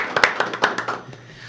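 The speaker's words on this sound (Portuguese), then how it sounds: "Uma salva de palmas essa galera aqui." A small group claps unevenly for a team being thanked at a live event: about eight sharp, separate hand claps in a loose rhythm, close and moderately loud, that thin out and fade within a second and a half.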